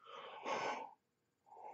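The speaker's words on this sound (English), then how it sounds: "So sorry about yawning." A person yawns in one long breathy exhale that swells in the middle and tails off, then a brief pause and a softer follow-on breath, close and fairly quiet with no talk over it.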